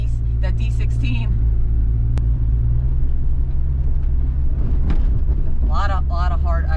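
Honda Civic wagon with a D16 engine accelerating in snow, a steady loud low engine rumble throughout with road noise, while people talk over it.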